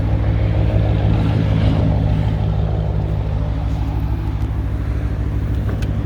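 A Dodge Challenger R/T with a six-speed manual idles close by, its exhaust giving a steady, deep, throaty rumble that holds at an even level throughout with no voices over it.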